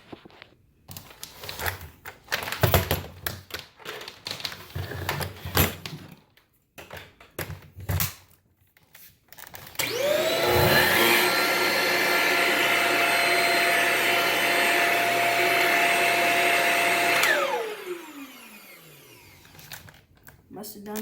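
A Shark Rocket vacuum cleaner, just fitted with a replacement hose, switches on and runs with a steady loud whine for several seconds, then winds down. Handling noises and clatter come before it starts.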